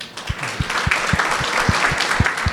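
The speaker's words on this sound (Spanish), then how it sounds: "Un aplauso para ellos." Audience at a talk on stock market investing breaks into applause, a steady, loud wash of many hands clapping together with faint voices mixed in.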